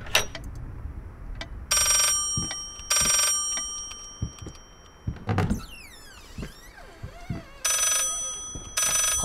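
A telephone rings in the horror game Layers of Fear, sounding in three short electronic bursts among creaks, thuds and a sliding, door-like noise in a quiet room.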